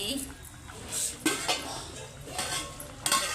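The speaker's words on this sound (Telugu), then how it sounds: "కొద్దిసేపు కలిద్దామండి" Vegetable rice being stirred in a pot, with a ladle clinking and scraping against the metal in irregular strokes while a voice talks over it.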